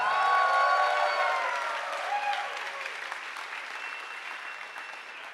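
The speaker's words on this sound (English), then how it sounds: "And give a warm applause to Achim for controlling the Zeitschwein." A crowd claps warmly at a science slam in Berlin, applauding the timekeeper: a full, dense burst of applause with a hint of cheering that gradually thins and fades toward the end.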